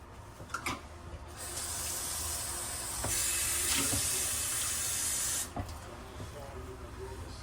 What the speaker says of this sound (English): I want to add a half a cup of water to this